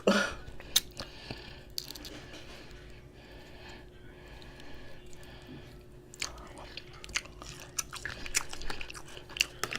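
Someone bites and chews snow crab legs with their teeth at close range, making intermittent crunches and cracks over quiet wet chewing, with occasional sniffs and breaths.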